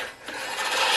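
A non-motorized push lawn mower cuts through grass with a steady, close rasping whir that builds slightly louder over a single second, with no talking.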